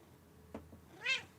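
A cat gives a single faint meow after a soft brief sound, heard in a quiet indoor room with no talking.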